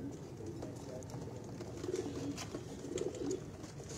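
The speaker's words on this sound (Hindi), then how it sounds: "बड़े नायाब कबूतर है माशाल्लाह" Rare, old-breed pigeons on a Karachi rooftop give soft, low coos in two short bursts over about four seconds, set against a quiet, steady open-air hiss.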